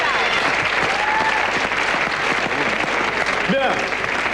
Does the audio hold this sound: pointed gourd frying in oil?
no